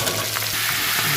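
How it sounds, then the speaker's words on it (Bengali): Potato and cauliflower fry in oil in a wok with a loud, continuous close sizzle and faint stirring underneath, brief and unbroken. "আলু ফুলকপিটা ভালো করে ভেজে নেবো"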